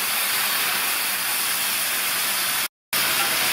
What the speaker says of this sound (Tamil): 2 ஸ்பூன் அளவுக்கு தண்ணி தெளிச்சிருக்கேன்.